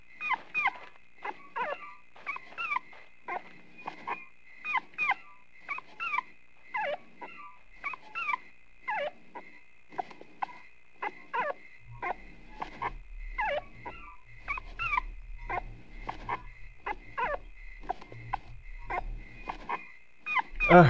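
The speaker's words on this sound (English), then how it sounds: "I think this is a poor doggy." In the survival horror game Rule of Rose, a dog whimpers and whines in a long run of short, rhythmic cries, faint and steady, with a low rumble joining partway through.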